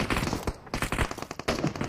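PUBG gunfire rattles off in rapid, close bursts of sharp automatic shots with brief gaps between them, loud and dense throughout.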